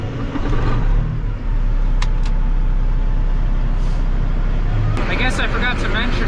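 A 1197 combine harvester runs loudly nearby, its steady low engine drone filling the whole stretch, with a person talking over it near the end.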